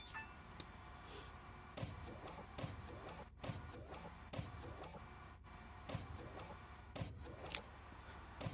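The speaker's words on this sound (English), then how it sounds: "we can still hear the 3D printer going" A 3D printer running at a distant base in the Mars survival game Occupy Mars gives a faint mechanical whir broken by regular clicks and taps, heard quietly from far away.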